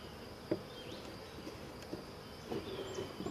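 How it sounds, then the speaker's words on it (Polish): A steady, close buzzing of many honeybees in an open hive, a dense continuous hum with a few soft knocks and rustles mixed in. "Matki nie widać, same pszczoły chodzą"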